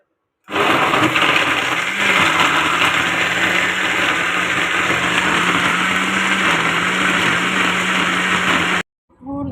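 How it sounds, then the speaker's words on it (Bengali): An electric blender whirs steadily for about eight seconds while blending bael fruit sharbat, a loud, even motor drone that starts abruptly and cuts off sharply. "ঢাকা দিয়ে এটাকে আমি একটু ব্লেন্ড করে ফেলি"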